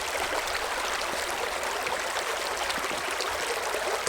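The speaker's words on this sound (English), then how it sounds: "Little water crossing on Blackbird Knob Trail." A small stream rushes over rocks at a shallow water crossing on Blackbird Knob Trail in Dolly Sods Wilderness, a close, steady bright babbling with no break and no voices.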